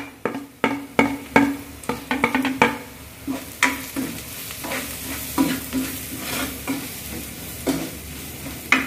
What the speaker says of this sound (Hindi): मसाला डाल के इसमें मीडियम आंच पे भुनेंगे।